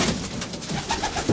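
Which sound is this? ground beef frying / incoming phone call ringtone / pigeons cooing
pigeons cooing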